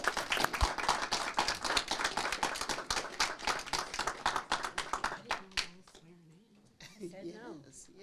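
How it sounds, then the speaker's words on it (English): A city council meeting audience claps for a councilmember: a burst of loud, dense clapping that thins out and stops after about five seconds, followed by talk. "Can we give Councilmember Bernard a big round of applause?"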